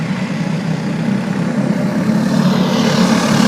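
Race cars in the 206 Cup at Road America–style circuit USAir Motorsports Park in Shawano, Wisconsin, running flat out after the final corner, a steady continuous engine drone throughout with no talk.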